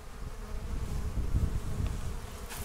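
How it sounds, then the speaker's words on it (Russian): A honeybee buzzes close by in a continuous, wavering drone that swells slightly in the middle, with no talking. "Вот я поймал пчелу,"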